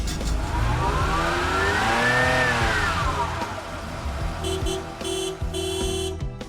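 A grey Porsche 911 Targa engine revs up loud and close, its pitch rising and falling in a single sweep before settling into a steady idle, with a short beeping tone near the end.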